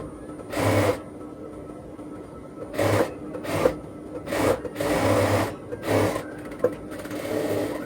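A sewing machine stitches a fabric sleeve in several separate bursts, each run lasting under a second to about a second, with quiet pauses between them, close and fairly loud.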